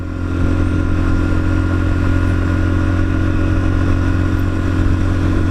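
A Lexmoto Assault motorcycle is ridden with a loud, steady engine drone and low rumble that barely changes, heard close from the rider's position with heavy wind noise and no talking.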